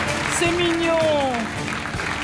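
Studio audience at a French TV game show applauding steadily in a broad, dense wash, with a voice speaking briefly over it partway through.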